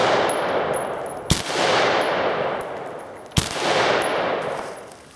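AR-15 rifle firing Federal XM193 5.56 full metal jacket rounds, two sharp loud gunshots a couple of seconds apart, each followed by a long booming echo.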